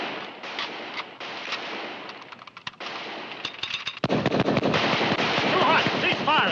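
Cannon and rifle fire in a western battle scene: a rapid run of sharp, loud cracks and booms that grows denser and heavier partway through, with a rumbling, noisy backdrop and voices faintly mixed in.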